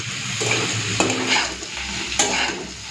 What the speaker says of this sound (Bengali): এরপরে হাই ফ্লেমে এইভাবে উচ্ছে আলুটাকে ভেজে নিতে হবে